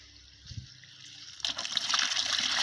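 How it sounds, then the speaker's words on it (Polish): After a quiet moment, water starts pouring and splashing steadily from a well, a close, continuous rushing stream that grows slightly louder. "woda z niej się leje mniej więcej tak"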